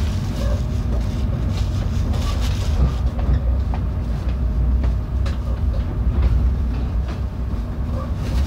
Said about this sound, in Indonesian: kereta api Jayabaya tiba di stasiun Pekalongan